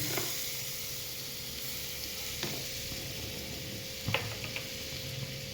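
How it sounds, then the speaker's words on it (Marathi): Butter sizzles steadily in a hot pan for a Maharashtrian tempering, a soft continuous hiss with a few light clinks of stirring. "आपण आता फोडणी टाकून घेऊया इथं बटर घातलं आहे मी"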